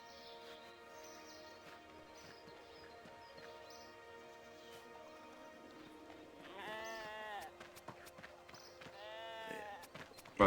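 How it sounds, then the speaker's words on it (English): Repeated sheep bleats from shearing sheep in the RuneScape video game, coming in a few short game-sound calls over a quiet background that includes low music. "here I am shearing a bunch of sheep to make wool so I can make rope"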